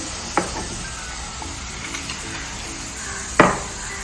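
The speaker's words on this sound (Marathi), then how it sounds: "चांगले परतून घ्यायचे कांदा आणि टमॅटो" Chopped onion and tomato sautéing in a pan for garlic chicken, a continuous close sizzle with two sharp clacks of a spoon against the pan and light stirring, no talking.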